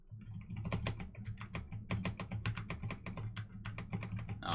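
Rapid keypresses tap out on a phone keypad in the visual novel Steins;Gate, an uneven burst of close clicks with no talking.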